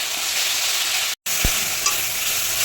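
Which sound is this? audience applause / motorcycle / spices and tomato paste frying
spices and tomato paste frying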